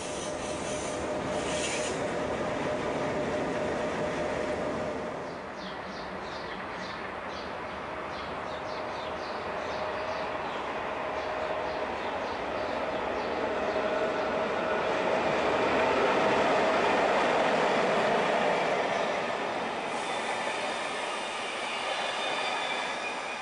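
A DB class 103 electric locomotive hauls an Interregio train across the elevated Berlin Stadtbahn viaduct. A continuous rolling rumble with rasping wheel noise and brief squeals holds steady and swells slightly as it passes nearby.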